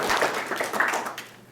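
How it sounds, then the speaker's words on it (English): Brief scattered clapping from a small meetup audience welcoming the evening's speakers, a short burst of hand claps that tapers off quickly. "let's give our tonight's speakers a round of applause"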